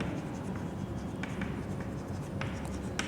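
Scratchy strokes of writing on a board during a physics class derivation, short taps and scrapes in an uneven rhythm, soft and close over a quiet room murmur.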